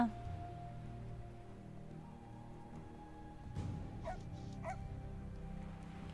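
Dog barking and whimpering in the video game Sovereign Syndicate, a few soft yips and whines rising over a faint steady background hum, quiet and somewhat distant.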